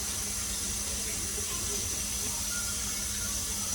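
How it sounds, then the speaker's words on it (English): Tap water runs steadily into a sink while ginger is washed, a continuous close hiss of flowing water with no talking. "I'm gonna wash my ginger."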